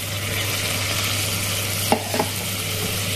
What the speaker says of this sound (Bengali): এবার ঝিঙেটা একটু সেদ্ধ হোক